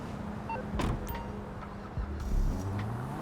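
A truck being driven in GTA Online on Xbox Series X/S sends out a low, steady engine drone with a couple of brief mechanical bumps and clunks along the way.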